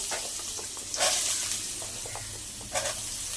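Beetroot frying in a pan, a continuous soft sizzle broken by two brief bursts of louder hissing as it is stirred or moved, no voices.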